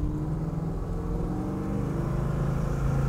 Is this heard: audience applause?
no